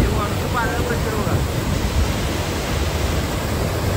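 Water gushes through the opened gates of Radhanagari dam in a heavy, booming roar that fills everything, close and loud, with a brief voice near the start.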